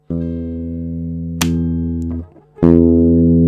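An electric guitar with all pickups engaged rings out in sustained, harmonically rich notes, struck again partway through, fading briefly and then restruck louder and fuller near the end.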